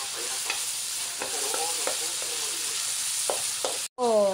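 Chopped vegetables for pakbet sizzle steadily in a pan while a utensil scrapes and stirs them in short repeated strokes, all up close. A brief gap near the end is followed by a rising tonal sound.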